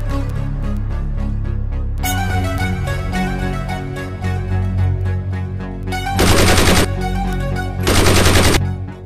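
Gunfire emptying a full magazine in a Sindhi drama scene: two sustained bursts of rapid automatic fire ring out loud near the end, over steady background music.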